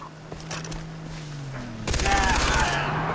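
Light machine gun fire in Far Cry comes as a rapid, loud burst of automatic shots that dominates the second half, after a stretch of lower game noise.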